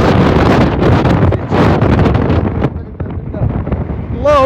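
Strong wind buffets the microphone during a wildfire sweeping Tipaza and Cherchell in Algeria, producing loud, gusting roars that rise and fall across several seconds.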